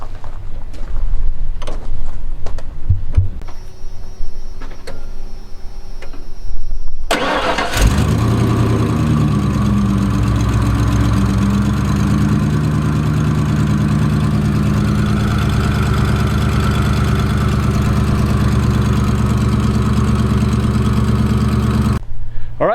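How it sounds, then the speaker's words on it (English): Gasoline Ford F150 OBS truck with a newly replaced distributor. A few clicks and scrapes come first, then the starter cranks briefly and the engine catches and settles into a steady, close, even idle that runs on without talk. "Truck fired up just fine."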